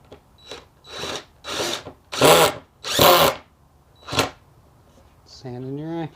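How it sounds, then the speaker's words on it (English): A power drill driving the last screw into a kids' elevated raised garden bed, with several loud, close bursts of whirring that rise and stop in quick succession, and a voice speaking near the end. "All right, last screw for this part."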